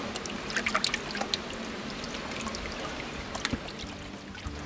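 Water pours and trickles from a bowl of young salmon smolts being released into the Gauja river, a steady close splashing wash with small sharp drips and no voices.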